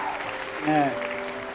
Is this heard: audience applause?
yes